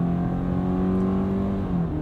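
A 2020 Subaru Forester Limited accelerating at full throttle, its engine droning steadily and loudly with a rising tonal whine, close and continuous with no talking.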